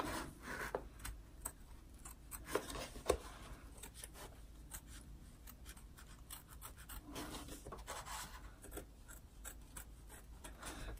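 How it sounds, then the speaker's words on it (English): Applique scissors snip around the edge of fabric for an in-the-hoop gnome stuffie, giving quiet, close, irregular clicks and soft scraping cuts spread over several seconds. "we're going to go ahead and use those applique scissors again, and we're going to cut all the way around this as well"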